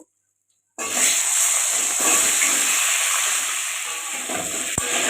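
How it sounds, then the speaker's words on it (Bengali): Washed, finely chopped potatoes hit hot oil already seasoned with whole cumin and split chillies, bursting into a loud, steady, close hiss after a moment of silence. "এবার এর মধ্যে দিয়ে দেব আগে থেকে কুচে ধুয়ে রাখা আলু"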